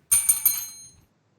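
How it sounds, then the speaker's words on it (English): Three quick taps on a small desk bell ring out close and bright, each strike overlapping the last before the ringing fades out within a second. "Tapping the bell."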